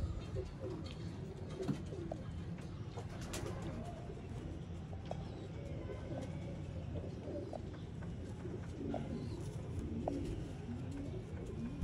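Sialkoti pigeons from a breeding pair softly cooing in a loft, faint low coos repeating through a steady background murmur, some distant and indistinct.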